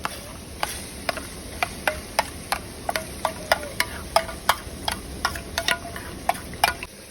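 Kashmiri red chilli and garlic paste being sautéed with golden-brown onions in a pan for pav bhaji masala: a steady soft sizzle under sharp, irregular spatula taps and scrapes against the pan, with no talking.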